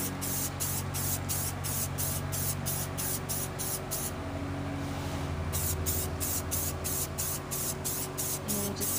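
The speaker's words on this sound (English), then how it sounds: "And I just start spraying, and I like to use the gloss paint, the high gloss" Aerosol can of high-gloss spray paint hissing steadily as pumpkins are coated, in a series of short rhythmic bursts with a longer continuous spray midway, close and moderately loud.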